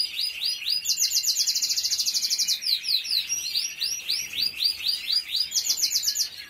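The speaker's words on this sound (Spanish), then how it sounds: "Y eso que ya, pues pájaros, hasta fecha, pues han perdido el repertorio. Pierden calidad en la voz" Caged songbirds sing continuously in bright, rapid trills and chirping phrases, several voices overlapping close by, with no talking.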